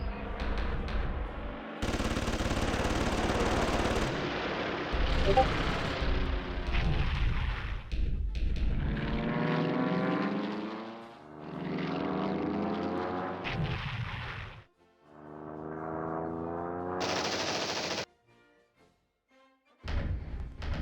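Fighter aircraft strafe Kenley airfield in a Battle of Britain combat video game: loud bursts of machine-gun fire and heavy thuds over droning aircraft engines, with brief pauses between attacks.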